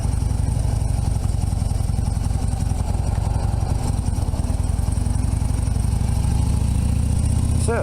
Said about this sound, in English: you gotta let the bike warm up, and then it'll go back down to 10 on the tachometer